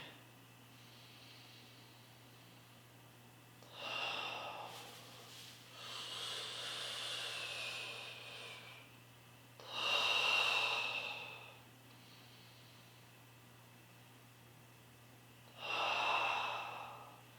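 Slow, deep breaths during a yoga inversion in a pelvic floor flow, three or four long airy inhales and exhales spaced several seconds apart, close and soft over a steady low hum, with no talking.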